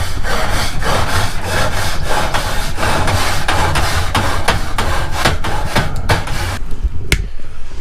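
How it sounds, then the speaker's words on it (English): A grill grate being scraped clean, loud continuous rough strokes in steady rhythm, close up, with a few sharper knocks near the end and no talking. "then I'm gonna clean my grate"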